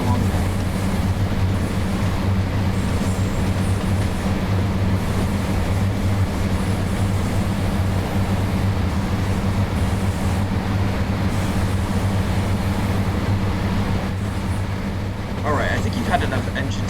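Diesel engine drone of a Class 142 Pacer railbus cab in Train Sim World 4, a steady loud low hum with rumbling running noise throughout, unchanging, with faint rattles near the end.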